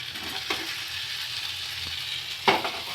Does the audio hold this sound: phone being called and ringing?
no